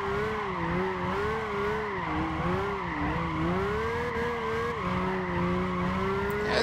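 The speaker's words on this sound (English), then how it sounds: "I love the way when I'm drifting, I always change gear mid-drift." A BMW M3 Coupe drifting in Gran Turismo 5, with a sustained, wavering tire squeal riding over a droning engine note that shifts pitch mid-slide, loud and continuous with no talk.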